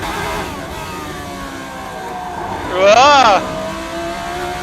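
Race car engine at Monaco in a racing game, a loud buzzing tone rising and dipping as it climbs through the gears, with a sharp surge of pitch midway; a voice briefly exclaims.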